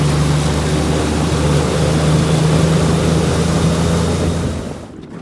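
A Suzuki DF25A 25 HP outboard motor, a 2025 model, runs at speed during a prop test on a boat, giving a loud, steady, close droning hum with a strong low tone that fades out at the end.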